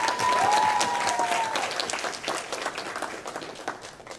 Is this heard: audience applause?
yes